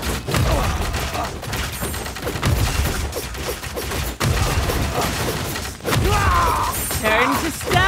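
Volleys of gunfire and battle clashes in the video game Game of Empires, loud and dense throughout, with shouted commands and voices layered over the combat.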